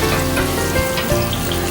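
Finely chopped garlic crackles and sizzles loudly in a hot pan, a dense continuous frying hiss close up with no voices.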